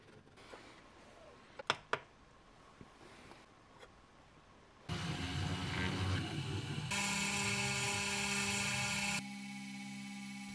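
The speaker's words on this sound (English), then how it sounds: "First task is engrave to copper layer." Faint ticks and clicks, then a loud, steady whine with harsh buzzing from a Carvera Air CNC machine engraving a copper PCB starts abruptly and grinds on, shifting pitch partway through.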